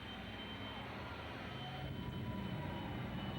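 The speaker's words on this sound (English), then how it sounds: "Not only does it squirt fire out of the tailpipe, but also out of the smokestack on the top of that powerful J60 jet engine." A powerful J60 jet engine on a drag-racing jet car, shooting fire from the tailpipe and from a smokestack on top, gives a steady loud roaring rumble that swells slightly toward the end, with no talk over it.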